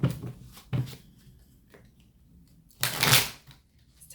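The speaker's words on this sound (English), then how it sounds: "just going to shuffle them one more time." A deck of oracle cards being shuffled close up: quick riffles and soft slaps in short bursts, with a longer, louder riffle near the end and quiet gaps between.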